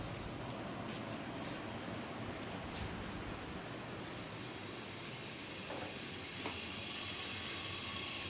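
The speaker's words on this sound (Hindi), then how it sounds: "चलते हैं किचन में और स्टू भून लेते हैं जल्दी से" A stew of coarsely ground onion frying in a pan on a kitchen stove, giving a steady, close, broadband hiss and sizzle that runs unbroken throughout.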